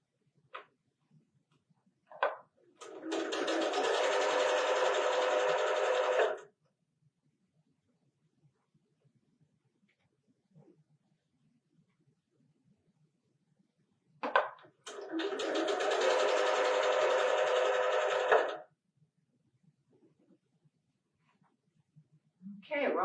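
A sewing machine stitches a pillowcase for quilting in two long steady runs of about four and three seconds, separated by quiet pauses with faint handling clicks.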